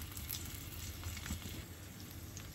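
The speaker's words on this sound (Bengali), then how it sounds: "মশলাগুলোকে নাড়াচাড়া দিচ্ছি" Panch phoron, fenugreek and other spices stirred in hot oil for a tangy olive pickle give a steady, quiet sizzle with faint scraping, continuous and alone.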